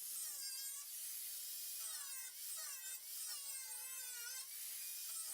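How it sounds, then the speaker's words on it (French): A jigsaw whines steadily at high pitch, its tone wavering as the blade bites through a VW T5/T6 van's sheet metal panel, continuous and close. "Cela permettra à notre scie sauteuse de découper la plus grande partie du panneau métallique sans sauter"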